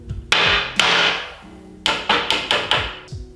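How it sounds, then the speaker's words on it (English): A carpenter's mallet drives a small piece of dowel into wood. Sharp, close wooden knocks arrive as two spaced blows, then a pause, then a quick series of five or six strikes. "To highlight the difference between using a carpenter's mallet and a wooden hammer when"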